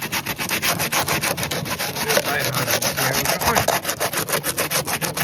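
Rapid back-and-forth scraping of sandpaper on rusty BMW 318 body metal by hand, a steady rhythmic rasp repeating many times, close and fairly loud.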